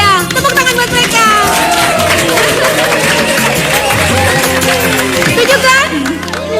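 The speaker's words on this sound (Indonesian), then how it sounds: "Tepuk tangan buat mereka." An audience claps for a couple, a continuous wash of applause mixed with crowd cheering and chatter, loud and close throughout.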